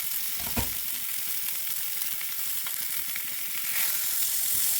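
Fish frying in a covered pan, giving a steady dense sizzle that is even and continuous, close and fairly quiet, with a brief louder crackle near the start.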